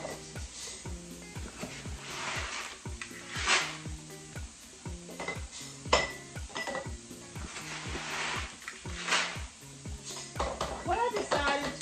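A Presto pressure canner being pulled out in a home kitchen, with metal pots clanking and rattling in a steady run of knocks and clinks, close by, with faint room noise underneath.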